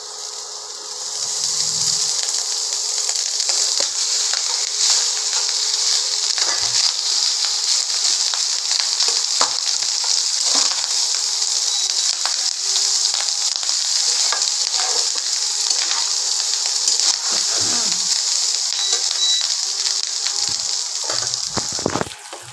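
Rice with fried carrots, beans, capsicum, cashews and raisins hisses loudly in a hot wok. The broad sizzle runs nonstop for over twenty seconds with faint scraping stirs throughout.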